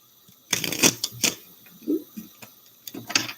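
Quick riffling snaps of a deck of cards being shuffled, a couple of short bursts close by, no talking.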